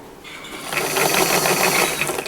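A sewing machine stitches flannel fabric for a classic flannel shirt, running in a steady continuous whir with a fast mechanical rhythm, close and fairly loud, with no talk.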